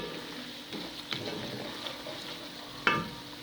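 Tomatoes added to softened onion and garlic fry in a pan, a soft steady sizzle with occasional stirring scrapes and one sharper clatter near the end.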